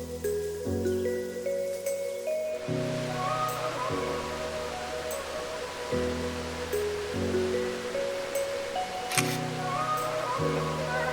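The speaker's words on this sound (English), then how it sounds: "I was going to record this there at the waterfall, but that was way too loud" Crabtree Falls waterfall rushes as a steady broadband roar, continuous and fairly loud, with a repeating tonal pattern overlaid throughout.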